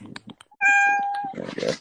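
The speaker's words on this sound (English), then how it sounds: "That was my cat." A house cat lets out one clear, drawn-out meow, close and loud, with a person speaking briefly just before and after it.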